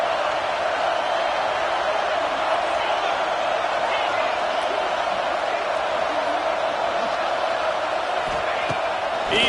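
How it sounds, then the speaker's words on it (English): Steady stadium crowd roar from a Madden football video game, a continuous dense wash of cheering swelling on a third-down defensive stand, with faint voices blending into the noise throughout. "Decibels rising as the crowd gets behind this defense on third down."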